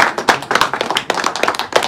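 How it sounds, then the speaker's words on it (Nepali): A crowd at a wedding celebration claps loudly and close by, with rapid, slightly uneven hand claps filling the short stretch. "अझ ताली बजाउनु जोडले"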